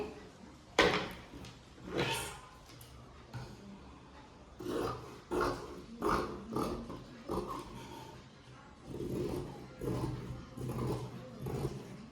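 Scissors cut through blouse fabric in quiet, close, irregular strokes, producing soft rasping and rustling snips.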